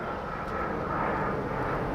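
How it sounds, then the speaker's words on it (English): An airplane passes overhead outdoors near a parked 2020 Toyota Highlander as rain threatens, a steady broad roar that swells slightly midway and stays loud throughout, with no speech. "there's always time to see one of my famous planes here"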